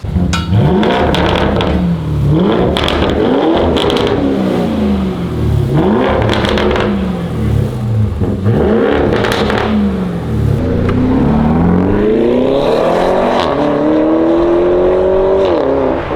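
A 2019 Lamborghini Urus engine revving repeatedly through its stock VW-made muffler, loud close-up rises and falls in pitch, ending in a long climbing rev, with no talk.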